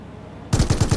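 Automatic gunfire in PUBG Mobile: after a quiet half second, a rapid burst of about five loud, evenly spaced shots in a close exchange.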